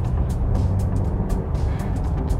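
A hybrid car running on its combustion engine through suburban streets, giving a steady low engine drone with road noise, close and continuous, with no speech.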